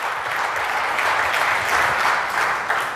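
A church congregation clapping their hands together, a steady, dense patter of many hands close by with a loose rhythmic pulse, filling the room without speech.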